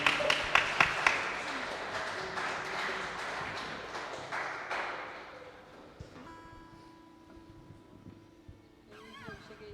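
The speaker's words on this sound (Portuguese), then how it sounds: "Aplauda Jesus, glória a Deus." A congregation at a church service applauding Jesus, dense rhythmic clapping loud at first, then thinning and fading as sustained musical tones take over.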